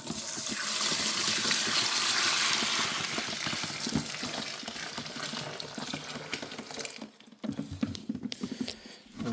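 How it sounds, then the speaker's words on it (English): Water poured from a container into a bucket, a continuous close splashing patter that runs for several seconds, thins out, then breaks into a few scattered drips and knocks at the end. "I'm gonna pour this water into this bucket"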